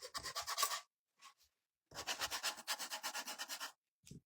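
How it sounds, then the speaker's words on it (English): Hard sanding scrapes rhythmically across a painted pumpkin craft to bring orange back through the top coat, two quick bursts of rapid rasping strokes close up with a brief pause between. "Gotta really kind of sand it hard to pull a little bit of that orange back through."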